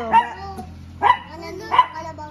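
Three loud, close barks from a fat hairless dog at a market, at roughly even intervals, separated by brief quiet gaps over a faint background hum.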